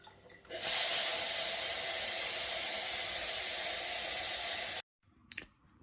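Steam bursts from the wand of a Salter EK3131 budget coffee machine in a loud, continuous hiss lasting about four seconds, then cuts off abruptly, leaving faint clicks.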